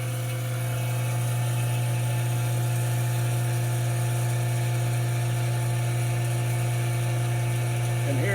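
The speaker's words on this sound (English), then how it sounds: "Right now it's sucking down and putting a vacuum on it." A Vacmaster VP320 chamber vacuum sealer pulls vacuum on bagged lamb, giving a steady, close motor hum and whir that runs evenly for the whole stretch.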